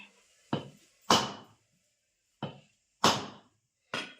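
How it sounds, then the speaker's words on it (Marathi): A grandmother cracking open a coconut by a wood-fired stove strikes it with sharp, separate knocks, five hits in uneven rhythm with silence between them, close and fairly quiet, with no voices. "आजी नारळ फोडते"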